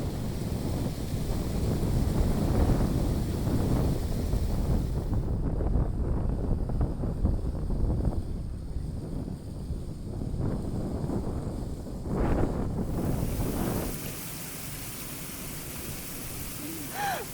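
Gusty wind buffets the microphone on the Oregon coast, a rough, roaring wash with big waves surging underneath; a voice speaks faintly at times, and the gusts ease off near the end.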